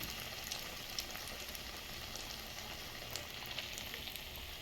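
Quiet, constant sizzling of ridge gourd fritters deep frying in oil, with faint bubbling crackles and no voices.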